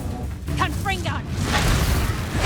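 A Confringo fire blast spell cast in Hogwarts Legacy, a bursting whoosh-and-boom of magical fire under and after a spoken incantation, with continuous combat noise filling the background.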